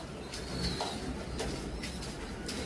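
Blue bar Lahori pigeons, big birds kept in a loft: soft, low coos repeating under a constant background hiss, fairly near but not loud.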